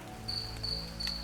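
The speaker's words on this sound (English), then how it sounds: "or merely a cricket which has made a single chirp." A single cricket in a quiet room, a thin high chirping tone that comes in short repeated pulses over a low steady hum, faint and close.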